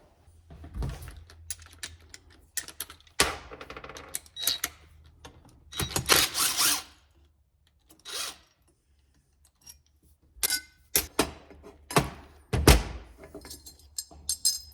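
Hand tools clink and scrape against metal while an engine flywheel is worked off a Triumph, in short, irregular bursts of knocks and rattles separated by quiet pauses, close up.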